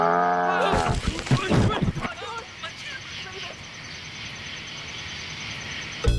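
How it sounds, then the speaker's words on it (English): Cattle lowing as a phone ringtone, a harmonic moo at the start followed by talking voices over crowd noise. "It's a bunch of cows."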